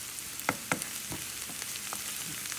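Crushed garlic cloves sauté in a pan with a quiet, even sizzle. A few faint clicks and taps of a utensil sound against the pan.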